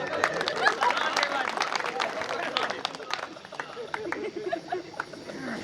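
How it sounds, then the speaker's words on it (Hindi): Audience applause at a live Bagheli comic poetry recital, a steady patter of many hands clapping with crowd murmur that thins slightly toward the end. "भैया समझ की जोरदार ताली बजाई।"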